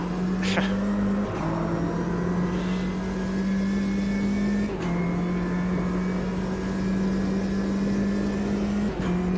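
A Ginetta G40 race car engine in the sim racing game Automobilista 2 holds a steady, droning note, with abrupt pitch steps at gear changes and occasional pops, loud and continuous throughout with no voices.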